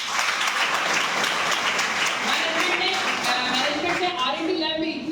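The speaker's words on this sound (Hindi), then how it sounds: "एक बार इसके लिए ताली हो जाए।" Applause from a product-training audience greets curcumin, a turmeric product presented as anti-cancer, a dense burst of clapping that thins slightly toward the end while a voice talks over it.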